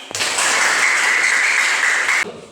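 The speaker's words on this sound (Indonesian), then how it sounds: "Ya, beri aplaus." An audience claps steadily for about two seconds in an Indonesian classroom teaching practice session, a dense close wash of hands that starts and stops abruptly, with no talking over it.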